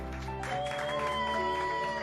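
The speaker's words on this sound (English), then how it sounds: "They're cheering for those on the front lines of the pandemic." A crowd cheering and clapping for front-line pandemic workers, a dense far-off wash of applause and shouts with some tonal sounds mixed in.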